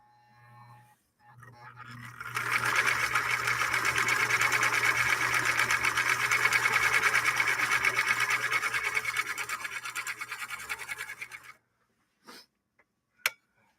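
A 1958 Husqvarna Viking Type 21 sewing machine, its thread catching a little, stitches in a steady fast run for about ten seconds after a low hum, then stops with a couple of sharp clicks.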